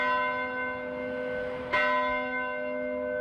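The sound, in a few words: church bell tolling at Augustana Lutheran Church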